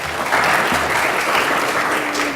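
A conference audience at a panel on redress for torture survivors breaks into applause, a dense, loud wash of many hands clapping together, sustained evenly for a couple of seconds without speech.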